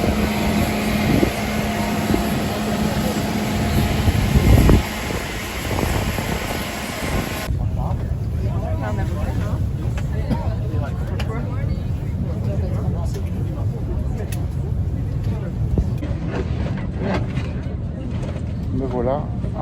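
Steady broadband engine and air-system roar fills a passenger jet cabin waiting for takeoff on a cold, snowy day, with snow on the wings delaying departure; an upper hum drops away midway, and faint murmuring voices sit under the constant drone.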